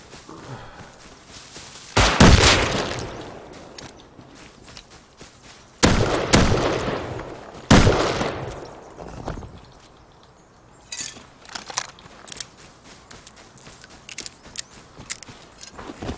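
Gunfire in the survival game Rust: several loud, harsh bursts of shots a few seconds apart, with quieter stretches between, then a run of scattered sharp clicks and pops.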